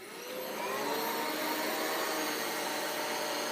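A Riccar stand-up upright vacuum cleaner spins up and runs close by, a loud, steady high-pitched motor whine with airy rushing that holds even after the start.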